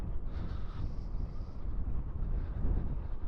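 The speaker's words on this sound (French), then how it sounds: "Un vent froid en plus encore un vent gelé." Cold, icy wind rushing over the microphone while riding an electric mountain bike, a steady low buffeting roar that lasts throughout with no talking.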